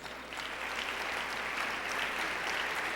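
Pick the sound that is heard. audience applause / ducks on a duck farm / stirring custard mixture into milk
audience applause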